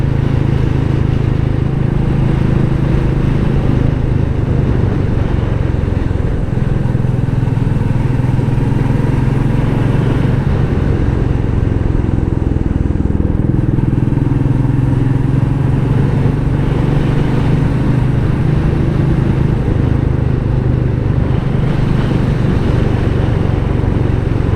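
A Royal Enfield Meteor 350 motorcycle cruises on an open road, its single-cylinder engine a loud, steady low drone mixed with wind rush that holds throughout without any voices.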